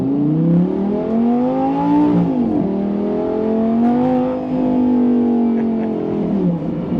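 Lamborghini Gallardo V10 accelerating hard, a loud, close engine note climbing through the revs, dropping briefly at a gear change, then rising again in a long sustained pull.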